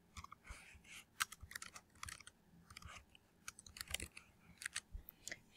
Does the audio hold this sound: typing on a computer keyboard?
yes